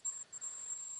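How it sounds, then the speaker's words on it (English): A high electronic beep sounds during a session of TheHunter: Call of the Wild, a thin steady tone cut by two brief gaps in about a second, faint and alone. "I apologize for the beeping."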